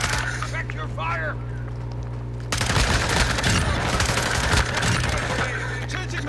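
Rapid gunfire bursts from Call of Duty: Modern Warfare 2 erupt in the second half, dense and loud over steady game background noise, following a quieter stretch with a faint voice.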